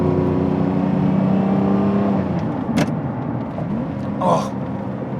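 V12 engine of a 2003 Lamborghini Murciélago with a manual gearbox revving and wailing up close, a loud sustained whine that climbs and then shifts, with brief voices heard over it.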